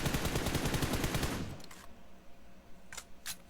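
Rapid automatic gunfire in the mobile battle royale game PUBG Mobile rattles loudly for about a second and a half, then fades to a low background with a few scattered sharp cracks, no talking.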